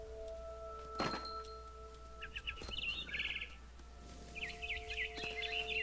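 Barn swallow chirping in the game What Remains of Edith Finch, quick high twittering bursts repeating through the clip over a steady ambient hum, with a couple of soft thumps nearby.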